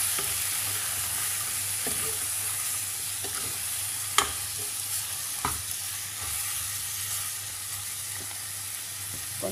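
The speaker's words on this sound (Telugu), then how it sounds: "ఇది మంచిగా కొంచెం వేగనిద్దాం ఇలాగే" Goat head meat with salt, chili and turmeric fries in a pan, giving a steady close sizzle throughout, broken by occasional sharp scrapes and taps from stirring.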